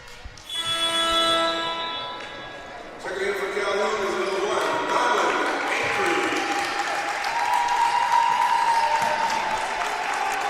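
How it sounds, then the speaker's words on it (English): Spectators at a Calhoun women's basketball game against Shelton State applaud a player leaving the court, the clapping carrying over arena noise with shoe squeaks and a whistle-like tone ringing through. "Kasai gets a really nice round of applause from the Calhoun crowd"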